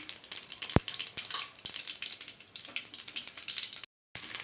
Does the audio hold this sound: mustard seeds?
yes